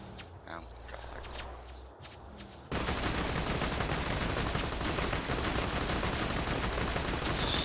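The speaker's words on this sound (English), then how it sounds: "So far away that they're shooting" Distant gunfire in Borderlands 2 comes as rapid crackling bursts that swell into a dense, continuous barrage after a quieter start, with a few clicks and footsteps heard early on.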